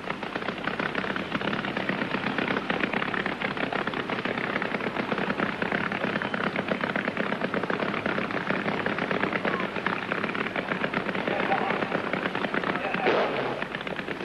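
A drag racing superbike roars through a burnout at a 1980 European finals meet at Santa Pod Raceway, a loud, continuous, crackling engine blast sustained across the whole stretch.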